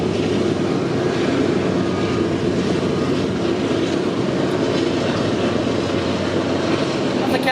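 A long train made of two trains coupled together rolls past with a steady, loud rumble that stays constant throughout.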